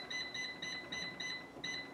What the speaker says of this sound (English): Gonna set the timer for 7 minutes.